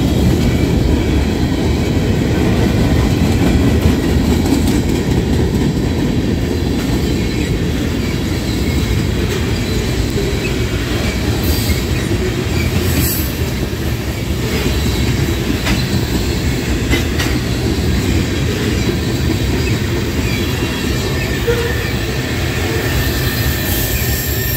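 A long Norfolk Southern freight train rumbles past continuously at close range in Creighton, Pennsylvania, a steady heavy roar of wheels and cars with faint rhythmic clatter throughout.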